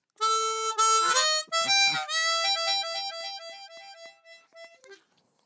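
A chromatic harmonica tuned to C plays a slow blues phrase in E of held reedy notes, bending and wavering, then tapering off into shorter warbling notes and fading out.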